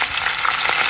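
Thuthuvalai leaves sautéing in oil in a pan for thogayal, a brief, steady close-up sizzle with faint stirring.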